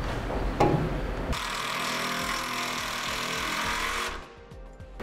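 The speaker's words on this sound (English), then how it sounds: "ground it here to the frame of the vehicle using the self-tapping screw provided with their install kit" A power driver runs a self-tapping screw into the frame of a 2008 vehicle, a steady loud whir lasting several seconds before it cuts off, with nobody speaking.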